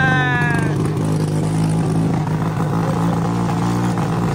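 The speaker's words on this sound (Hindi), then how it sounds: "मजा आ रहा है भाई शपाटर बाइक पे चलाने में" A scooter-style motorbike ridden along a road, its engine droning steadily and close for several seconds, with a brief tonal whine at the start.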